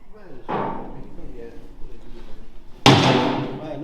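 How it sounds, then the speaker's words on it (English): A truck cab door being removed produces a couple of heavy metallic thuds and clunks, with the last impact the loudest. Nearby workers talk throughout. "Take off the door."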